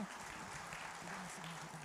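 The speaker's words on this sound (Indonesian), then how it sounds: "Udah maksimal tuh tepuk tangannya" Applause from a church congregation during an Indonesian-language service in Perth, a steady, even patter of many hands clapping at moderate volume with faint voices mixed in.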